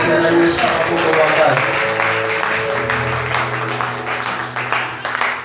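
A church congregation applauds and cheers in acclaim of the Lord, a dense wash of clapping mixed with voices that gradually thins toward the end.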